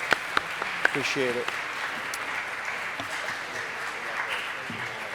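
Applause rises in a city council chamber to welcome a new commissioner: scattered clapping with a few sharp claps early on, under a brief spoken voice.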